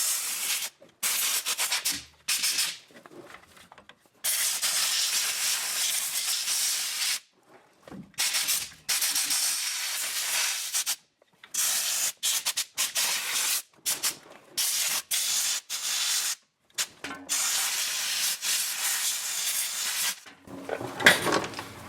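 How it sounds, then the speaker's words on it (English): Compressed air blasting around a 2018 Chevrolet Silverado drivetrain part, long loud hissing bursts broken by brief gaps, close up with no talking. "Blow it with compressed air all the way around."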